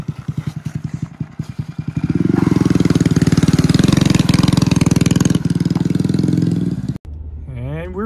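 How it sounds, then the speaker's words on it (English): Duramax and Detroit Diesel truck engines, a loud, close diesel starting with rapid chugging pulses before settling into a heavy rattling idle and revving, cutting off near the end as a voice speaks. "It's gonna be old Duramax versus the Detroit diesel."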